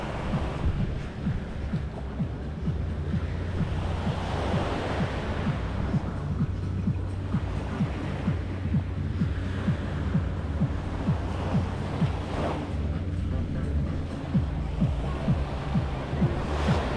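Ocean waves wash steadily onto a beach at Playa Mamitas, a continuous roar of surf with wind buffeting the microphone and no talking.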